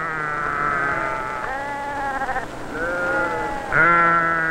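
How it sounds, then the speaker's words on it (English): Northern sheep bleat during early-dawn shearing by Tibetan traders, several long wavering calls in close succession, loud and near, with a faint buzz of insects behind them. "In the early dawn, we begin to shear the northern sheep."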